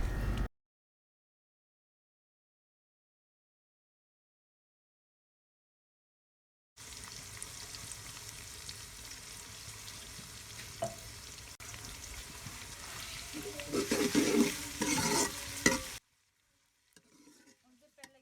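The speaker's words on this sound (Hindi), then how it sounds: "प्याज को अच्छे से फ्राई कर लें।" Onions fry in ghee in a cooking pot, a steady close sizzle with stirring scrapes that grows louder toward the end, preceded by a long silence and followed by faint clatter.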